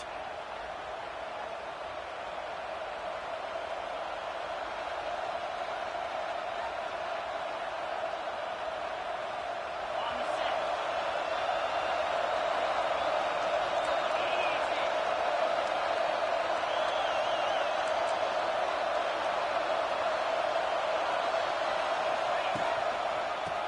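A roaring stadium crowd in a college football video game with Arkansas as the opponent, a steady, dense wall of noise that swells slightly partway through and holds loud to the end.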